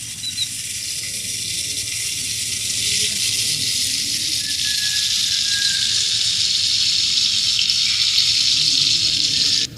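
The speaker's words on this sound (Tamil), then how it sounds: "இப்போ கரைச்சி வச்ச புளி கரைசலை எடுத்து ஊற்றிக்கலாம்." Tamarind water poured into a curry pan of sautéed tomato, onion and green chilli for a village-style ayala fish curry, a steady loud pouring and sizzling hiss that runs unbroken throughout.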